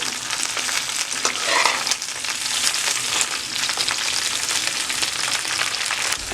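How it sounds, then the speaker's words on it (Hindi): Cut okra pieces frying in a pan over medium-high flame while a spoon gently turns them, a dense, close sizzle with soft stirring scrapes, steady and fairly loud. "हल्के हाथों से चम्मच हिलाते हुए हम इसे सारा फ्राई कर लेंगे"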